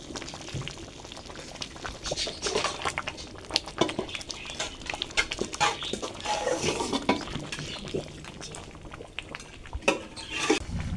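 A pot of vegetable khichdi boils and bubbles steadily, thick burbling and popping nearby, with occasional clinks of a spoon against the pot.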